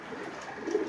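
Pigeons in a loft giving soft, low cooing calls close by, a short murmuring phrase over light background noise with no talk.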